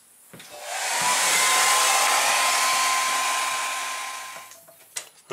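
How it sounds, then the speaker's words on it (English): A hair dryer runs on a freshly sprayed wall texture patch, a loud close whooshing roar that swells in, holds steady for several seconds, then cuts off, followed by a few small knocks. "I'm going to put a dryer on that and see what it does."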